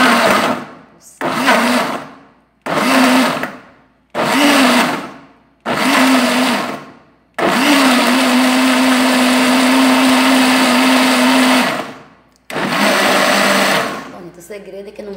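Short bursts from a kitchen blender mixing a fruit and vegetable juice, first five pulses of whirring motor with pauses, then one long continuous loud blend and a final burst, with someone speaking between.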